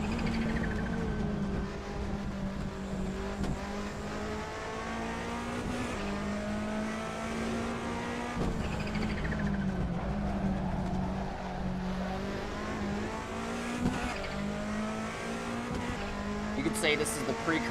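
A race car in the Assetto Corsa sim, its engine droning loudly and continuously with rising and falling revs through shifts, occasional tire squeal and a sharp knock mixed in.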